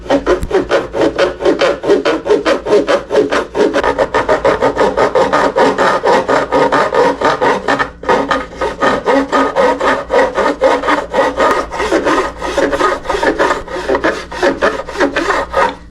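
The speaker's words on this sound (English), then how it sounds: "So I take this little file, I hold it just not quite a 45-degree angle." A small file rasps over sharp metal fret ends on an Ortega mandolin, a close, loud, rapid back-and-forth scraping rhythm that runs steadily with one brief pause.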